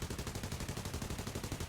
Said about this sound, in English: He enters the spot where 2 machine guns can fire, and just completely melts him.